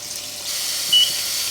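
Hot water gushes steadily into a Whirlpool washing machine drum, an even hiss of filling water with a brief soft beep partway through.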